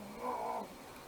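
A cat gives a single drawn-out meow or caterwaul, fairly faint and close, on its own with no talking.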